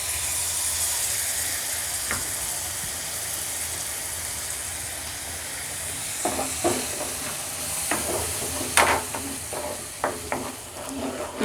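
Tomato puree stirred into sizzling masala in a pan for a tandoori chicken mandi, giving a steady low frying hiss with scattered scraping clicks of the spoon that grow busier toward the end.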